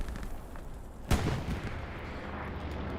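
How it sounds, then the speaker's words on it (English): An explosion in the World War II shooter Hell Let Loose on Omaha Beach, a single sharp loud blast followed by a rumbling tail over continuous battlefield noise. "Oh, explosion over there to the right."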